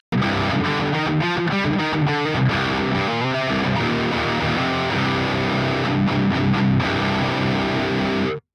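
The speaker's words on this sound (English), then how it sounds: "Diming the distortion gives me a solid, beefy texture to it, and I really like it." Electric guitar through a Boss DS-1 distortion pedal turned up full plays thick chugging chords and riffs, heavily distorted, loud and sustained, with no voices.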